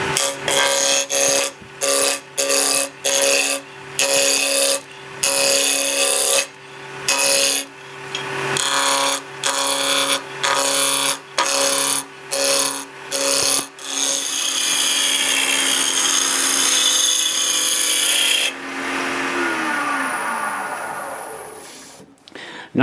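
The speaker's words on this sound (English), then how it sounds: "I'm actually going to go ahead and use a roughing gouge." A roughing gouge cuts wood on a lathe, scraping and chattering in rapid repeated passes, then a long continuous cut that fades as the lathe winds down; close and loud, with no talk.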